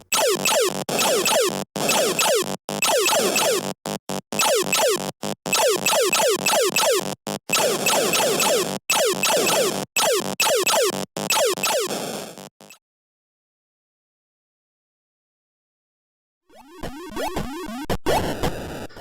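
Harsh, buzzy Atari 2600 space shooter game sounds with rapid pulsing blips and descending zaps, loud and continuous, then a pause before more bleeping tones return.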